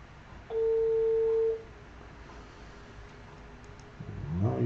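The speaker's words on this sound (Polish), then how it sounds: "Rozlega się dzwonek." A single steady ringback tone sounds on an outgoing telephone call, lasting about a second over a faint phone-line hiss, followed by quiet and then a voice starting to talk.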